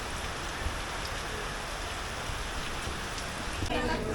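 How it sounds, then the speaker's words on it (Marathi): Steady rain falls at Panhala Fort near Kolhapur, a dense even patter on surfaces that continues throughout without a break. "कारण पाऊस पडतोय"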